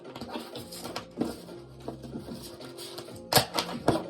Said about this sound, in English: Give it another shuffle and see what else is going on.